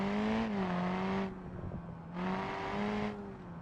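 A BeamNG car engine set to sport mode exhaust drones steadily at high revs, with pitch dipping and rising as the driver eases off and gets back on the throttle in two clear surges, close and loud with no voices.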